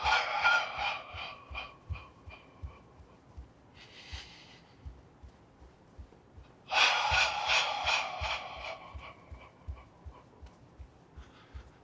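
Slow breathing during a qigong exercise, with breathy, airy bursts of inhaling and exhaling separated by quieter pauses, close and without talk.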